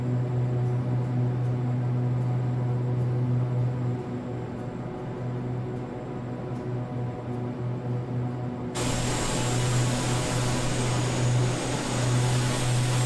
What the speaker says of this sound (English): This is the FT-SIM sound pack as well for this King Air 350, the analog by Black Square.